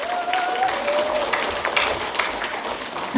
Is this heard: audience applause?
yes